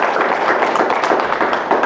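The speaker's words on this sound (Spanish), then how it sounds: "Le agradecemos con un fuerte aplauso al padre Carlos Rocha." An audience at a church conference in Mexico gives a priest a loud round of applause, dense steady clapping heard close for a couple of seconds.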